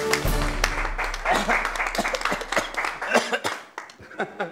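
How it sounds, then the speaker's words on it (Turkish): Audience applauding police officers, a round of clapping that swells and thins into scattered claps and fades toward the end, with a cough and some speech mixed in. "kahraman polislerimizi bir kere daha alkışlamanızı rica ediyorum"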